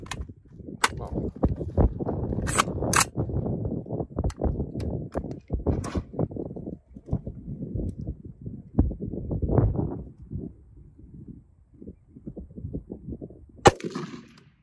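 A rifle fires green tip ammunition at a steel manhole cover outdoors, giving a few sharp, loud cracks spread across a stretch of quieter rustling and background noise.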